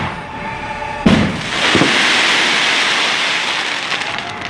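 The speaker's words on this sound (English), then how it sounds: "That's about as close as you want to get to fireworks in the Magic Kingdom." Fireworks going off close by at Magic Kingdom, with a sharp burst followed by a sustained loud crackling, hissing wash of smaller bursts that carries on to the end.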